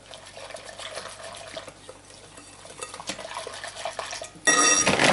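Cinnamon bun dough being stirred in a bowl, with a steady run of soft scraping and clinking kitchen sounds, ending in a louder burst of clatter and rushing noise in the final second.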